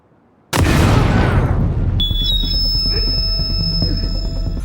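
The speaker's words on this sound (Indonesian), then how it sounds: "ponsel lipat keluaran baru tersebut meledak dan menghancurkan wajah mulus si penerima telepon" A new folding phone explodes against a caller's ear, a sudden loud close boom after brief quiet, decaying into a sustained rumble with a high electronic ringing tone layered on top.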